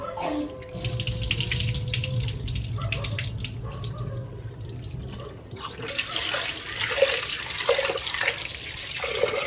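Water runs and splashes as toor dal is rinsed in a bowl, with swishing and pouring that grows choppier toward the end.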